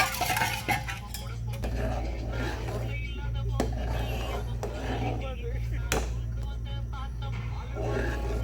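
A spoon works through thick ragi porridge in a pot, scraping and knocking against the metal sides with a few sharp clinks, under a steady low hum and a speaking voice.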